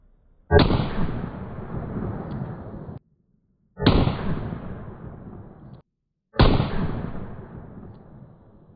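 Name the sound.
gunshot from 3-inch barrel, 158 grain load, non-magnum primer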